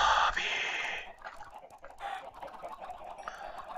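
Minecraft chickens cluck from a chicken farm in a survival game on hard mode, a loud dense burst of clucking at the start that fades into softer, scattered clucks and shuffling.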